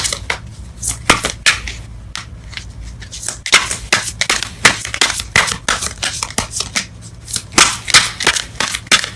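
A tarot card deck is shuffled loudly and up close, with repeated rapid riffling and slapping bursts in a steady, busy rhythm.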